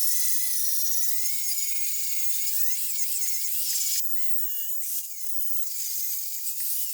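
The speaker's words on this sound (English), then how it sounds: "I'm gonna grind all this flat first, then come back and grind the sides" An angle grinder working a steel motor mount bracket flat, a steady high-pitched whine with rising and falling pitch as the disc bites, brief dips where pressure changes, loud and close with no talking.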